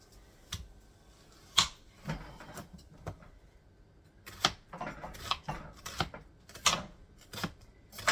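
Onions chopped with a knife on a cutting board, a string of crisp, irregular taps, some sharp and close, others softer, sparse at first and then quicker and denser.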